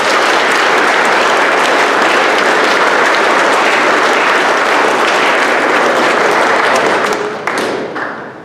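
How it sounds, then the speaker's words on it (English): Loud, sustained applause from a large audience at an undergraduate awards ceremony, dense steady clapping filling the room for about seven seconds before thinning and fading out. "Let's give a round of applause for them."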